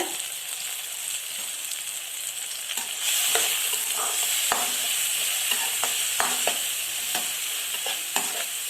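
Steady sizzling of onions and tomatoes sautéing in a pan, with occasional clicks and scrapes of stirring throughout, no voices.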